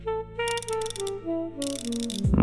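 Snap-on and Capri ratchets click in two quick bursts of fine, rapid ratcheting, heard close up over a steady tonal background hum.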